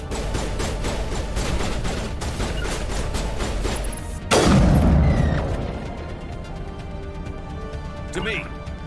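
Rapid bursts of gunfire in the sci-fi shooter game Mass Effect, dense and continuous, then a heavy boom followed by scattered shots and a brief electronic tone.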